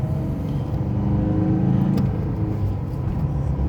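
A car engine runs at full throttle in third gear during a clutch slip test, a steady loud low rumble that builds slightly, heard from inside the vehicle without talk.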